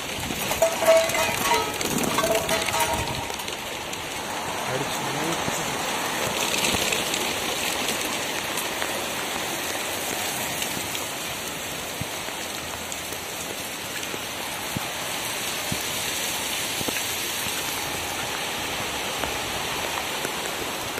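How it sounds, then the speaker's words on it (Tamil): Heavy rain pouring down outdoors, a dense, constant hiss of drops on surfaces that holds steady for the whole stretch, with faint sounds in the background. "வீடியோ எடுத்துன்னு இருக்கும்போதே மழை வந்துடுச்சு"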